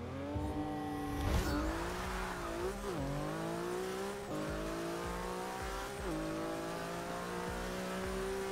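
Porsche 911 GT2-RS drag and wheelie build in Forza 6, its engine revving hard with rising gear-change sweeps and brief tire squeal, loud and continuous throughout with no talking.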